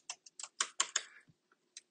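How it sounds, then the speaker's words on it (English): Computer keyboard keys tapped in a short irregular burst of distinct clicks, close and fairly quiet, with a final lone keystroke after a pause. "You can pretty much just start typing"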